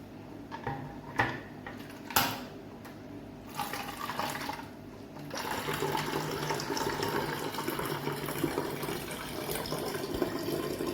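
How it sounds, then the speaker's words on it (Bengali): Water filling a home fish aquarium, a few clicks and splashes at first, then a steady pouring rush that continues to the end. "এই যে হয়ে গেল জল ভরা"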